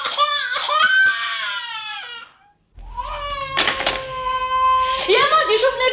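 An infant cries in loud, wavering wails with a brief pause midway, set in a Tunisian family drama scene, with voices mixed in around the sobbing.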